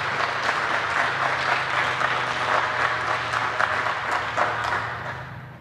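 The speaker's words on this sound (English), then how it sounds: "A big applause for Mark John," Sustained audience applause for a conference speaker at a hacker camp talk, dense steady clapping filling the room at even loudness, tapering off at the end.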